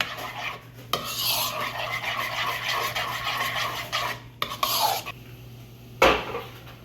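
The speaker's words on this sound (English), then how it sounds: "just gonna stir that up real good" Soy sauce mixture for a rack of ribs being stirred with a utensil in a bowl, a steady scraping, clinking swirl that runs continuously with brief pauses near the end.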